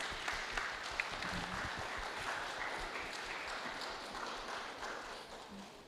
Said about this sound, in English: please, the last, give applause to all the speakers